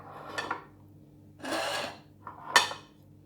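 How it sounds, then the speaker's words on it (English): A knife cuts a shallot for French salad in three separate passes, each a short rasping slice through the onion against the board, close and fairly quiet, with pauses in between. "Let's cut the onion."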